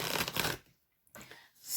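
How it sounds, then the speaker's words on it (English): A deck of reading cards shuffled by hand, two bursts of dense riffling rustle with a short quiet gap between, close and fairly loud. "So these cards feel really nice to shuffle today"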